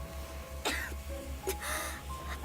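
A character coughs in the Limbus Company video game after an anti-abnormality gas grenade goes off, with two or three quick, faint coughs over a low, steady background hum.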